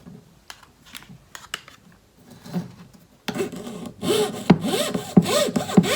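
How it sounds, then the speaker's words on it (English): Quiet scraping at first, then a jeweler's saw rasps in quick back-and-forth strokes along the outside of a marked line, growing louder and steady toward the end. "I am sawing on the outside of the line."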